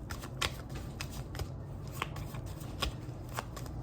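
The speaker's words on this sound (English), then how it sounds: "Shuffle for the collective earth signs." A deck of tarot cards being shuffled in close, quiet, repeated riffles and slides, with soft papery flicks and taps in an irregular rhythm.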